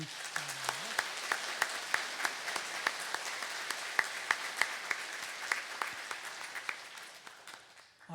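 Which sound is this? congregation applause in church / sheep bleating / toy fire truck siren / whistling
congregation applause in church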